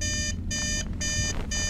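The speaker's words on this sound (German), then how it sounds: "Oder sie hat uns nur einen Wecker gestellt." A video game alarm clock rings in bursts of bright, steady electronic tones, about three rings with short gaps between them, loud and close over a low background hum.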